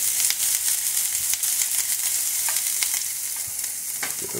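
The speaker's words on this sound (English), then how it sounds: "I have these purple onions. So I'm going to get these inside of the pan." Purple onions sizzle in a pan on the stove, a bright continuous frying hiss with crackles and a few clinks of stirring, close and fading slightly toward the end, no voices.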